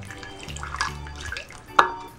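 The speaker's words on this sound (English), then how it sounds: "I'll just use these to pour water gently over her." Water poured gently from small bath toys over a Zapf Creation Baby Born doll in a tub, a soft splashing trickle with drips and a brief louder splash, under a quiet speaking voice.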